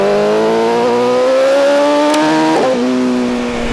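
A BMW S1000 RR motorcycle revs hard climbing uphill, its engine pitch rising steadily before a sharp quickshifter upshift cuts it to a lower note that carries on loud and close.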